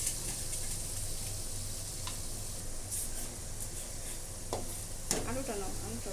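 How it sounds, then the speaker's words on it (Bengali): Meat dropped into a hot pan for a curry with potatoes, sizzling and crackling steadily at close range with light stirring clinks and a brief clatter of utensils. "এখন দিয়ে দিচ্ছি মাংস।"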